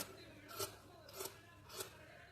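Scissors cut blouse fabric along a marked line, three soft evenly spaced snips, faint and close in a quiet room.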